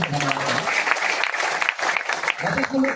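A crowd applauds steadily, a sustained wash of clapping from many hands.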